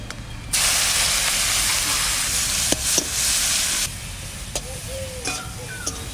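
Onion sizzles in hot oil with nigella seeds and dried red chili, a loud steady hiss that erupts suddenly, holds for a few seconds, then drops to a softer crackle with light stirring clicks.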